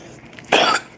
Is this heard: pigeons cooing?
no